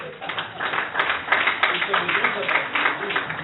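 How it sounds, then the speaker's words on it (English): A small audience at a startup pitch night applauds in a brief, moderately loud patter of scattered claps. "Big applause for Ichi."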